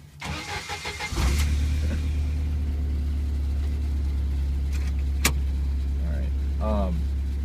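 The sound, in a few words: 1991 Jeep Wrangler driving on a rocky road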